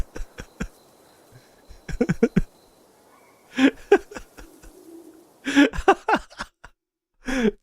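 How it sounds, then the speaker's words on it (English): A bird repeatedly calls in short, bright bursts with laughing, cooing notes, close and fairly loud, separated by brief pauses. "Oh, listen to the bird."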